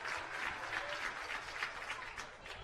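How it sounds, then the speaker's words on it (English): Fans in the stands at a high school state championship baseball game clap steadily together, a sustained, even wash of applause from a moderately distant crowd. "They'll start clapping."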